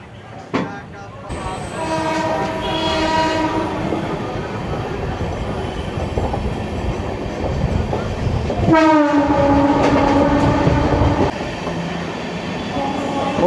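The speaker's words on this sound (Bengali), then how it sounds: "ট্রেন প্রবেশ করছে গড়িফা স্টেশন।" Gangasagar Express with LHB coaches rolling into Garifa station, a loud continuous rail rumble with clickety-clack, overlaid by two long blasts of the train horn, the second one strong and sustained.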